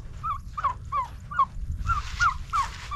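Repeated loud gobbling and honking calls from a group of turkeys in a steady rhythm, with outdoor noise rumbling underneath.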